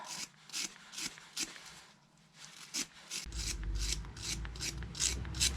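A wire brush scrubs minor pitting corrosion from a motorcycle's front brake caliper retaining pin in quick rhythmic back-and-forth strokes, close and fairly quiet, with a low rumble joining partway through.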